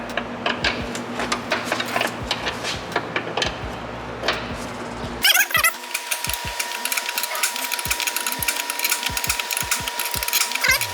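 A wrench works loose a 12 mm brake line fitting on a Chrysler 300 Scat Pack, making a fast run of close, dry metallic ratcheting clicks that continues through the whole stretch, with a sharp change in tone partway through.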